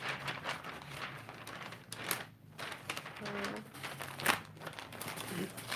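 Wrapping paper crinkles and rustles in close-up handling while Sinterklaas gifts are being wrapped, with continuous soft crackling broken by a few sharper crunches and a brief tearing-like burst, heard intimately and alone.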